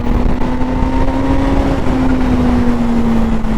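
A supercharged 2022 Kawasaki ZH2 motorcycle pulls hard on the road, its engine note rising steadily as a loud, close, continuous drone under rushing wind.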